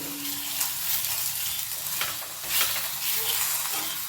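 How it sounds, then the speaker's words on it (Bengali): Cauliflower paratha frying in white oil on a pan, a steady close sizzle and hiss running throughout with light scraping stirs and no voices. "পরোটাটা কিন্তু আমি সাদা তেলে ভাজছি।"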